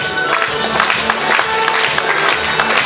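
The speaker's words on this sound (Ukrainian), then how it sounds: "Ваші оплески" Dense, sustained applause from a crowd at an outdoor district harvest festival honouring farm workers, steady and fairly loud, with faint voices and a musical tone underneath.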